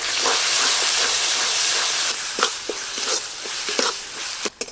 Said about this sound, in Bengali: এটা দিয়ে আমি আরও ভালো করে মশলা একটু কষবো।